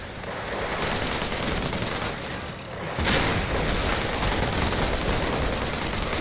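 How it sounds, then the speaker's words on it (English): Machine gun fire crackles through a Company of Heroes battle, dense continuous bursts and distant booms forming a loud, unbroken wall of gunfire that swells after a brief dip. "that player from the far other side has a machine gun set up here"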